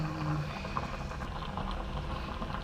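A pot of bangus fish broth at a steady rolling boil, bubbling and popping continuously up close with a low simmering rumble beneath.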